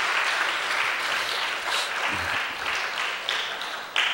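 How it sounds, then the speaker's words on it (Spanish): Steady applause from a church congregation fills the space for several seconds, loud and continuous with no voices over it. "Un aplauso a Cristo."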